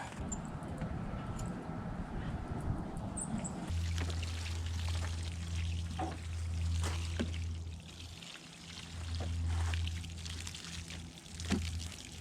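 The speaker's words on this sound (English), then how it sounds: "I'm going to wet this bed down with some fish emulsion" Diluted fish emulsion poured onto a raised garden bed: a steady splashing pour of water with trickling, close by, plus a low droning hum through most of it.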